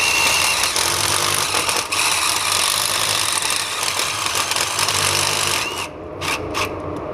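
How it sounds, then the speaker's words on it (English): A power drill with a step bit whines steadily at close range for several seconds, then stops and gives a few short bursts. "pull that out and I'll drill a hole"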